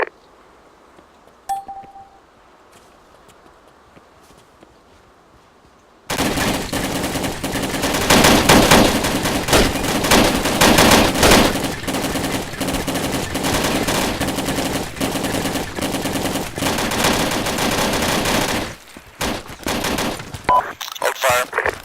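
Dense ARMA 2 gunfire erupts after a quiet opening, a loud sustained fusillade of rapid automatic bursts lasting most of the stretch before dying into scattered shots, with voices audible at moments.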